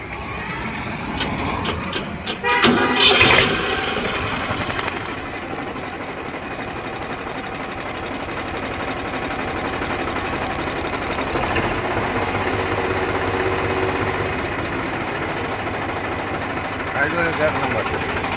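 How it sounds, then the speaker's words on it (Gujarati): A complete, original farmer-owned tractor with a Ricardo diesel engine runs steadily nearby, a continuous knocking idle rumble lasting throughout, with a brief louder clatter early on and people talking over it. "રિકાર્ડો એન્જિન આવે."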